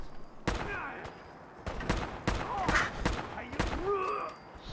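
Gunfire in Fallout 4 crackles in a fierce exchange, several loud close bursts and single shots spaced irregularly, with ricochet whines and combat clatter between them.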